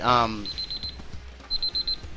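Timer alarm going off in two short bursts of rapid electronic beeps, loud and close, with people talking over it.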